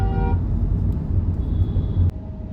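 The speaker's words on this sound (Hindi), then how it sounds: "अनएंडिंग ट्रैफिक है गाइस।" Dense city road traffic at rush hour, a continuous loud engine rumble with brief horn toots rising above it.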